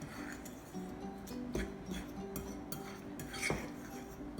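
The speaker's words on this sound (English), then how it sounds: "So I'm gonna just mix these up." Flour and other ingredients for Jamaican fried dumplings stirred by hand in a bowl, with soft scraping and occasional light clinks of utensil against the bowl, close and quiet.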